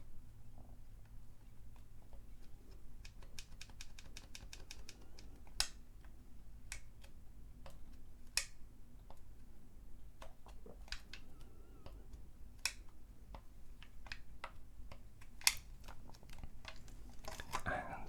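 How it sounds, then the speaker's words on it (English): Clicky Game Boy buttons are pressed up close, giving sharp, quiet clicks. A quick rapid burst comes first, then scattered single presses and small clusters over a faint low hum. "And again, lovely clicky buttons. Very nice clicky buttons."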